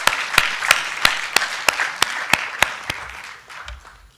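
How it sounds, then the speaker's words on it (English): An audience at a network operators' meeting applauds a telecom company's on-site representative, soft steady clapping with a few sharp, evenly spaced loud claps near the microphone, fading out toward the end. "a round of applause also for New Telco"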